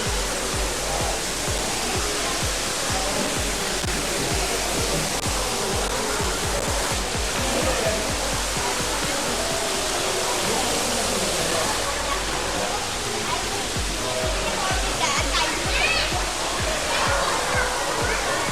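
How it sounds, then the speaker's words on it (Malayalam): Water pours steadily from a waterfall at a marine aquarium in Mysore, a constant broadband rush that holds at an even level throughout, with faint indistinct talk mixed in. "ഇവിടെ നമ്മൾ മുകളിൽ നിന്ന് കണ്ടിട്ടുള്ള ആ ഒരു വെള്ളച്ചാട്ടം അതാണ് ഈ കാണുന്നത് കേട്ടോ"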